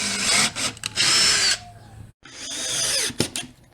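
Power drill driving screws into a drywall patch over a hidden pipe, two whirring bursts close by with a brief pause between them, no talking.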